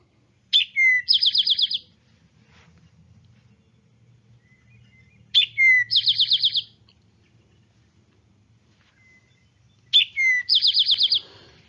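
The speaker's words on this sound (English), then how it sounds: "So here's the drink your tea song of the eastern towhee." An eastern towhee sings its drink-your-tea song three times, each a bright two-note opening and a fast trill, loud and close, separated by several seconds of quiet.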